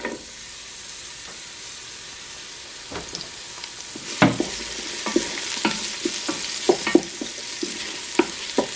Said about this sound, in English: You then want to add in the onion.